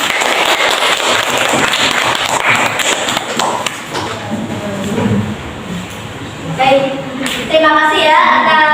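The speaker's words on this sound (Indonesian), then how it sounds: "Tepuk tangan." A classroom of students claps during a microteaching literature lesson, the clapping strongest early then fading, followed by children's voices and talk in the room.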